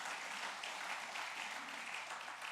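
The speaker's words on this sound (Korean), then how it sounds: "이런 분들을 위해서 박수 한번 쳐봐요." A church congregation at a Sunday morning worship service claps together in a dense, sustained burst of applause that fills the room at moderate loudness, with no voices rising above it.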